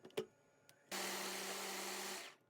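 A short tap, then a blender blending mango and jelly whirs loudly for over a second, a steady motor roar that cuts off abruptly.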